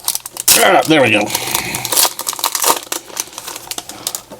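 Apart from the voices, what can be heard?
opening a Superman trading card pack wrapper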